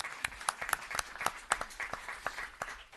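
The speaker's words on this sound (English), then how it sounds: "Let's give them a round of applause." A small audience at a town board meeting claps for a high school cheer team. The sparse hand claps sound near and individually distinct, forming an irregular patter throughout.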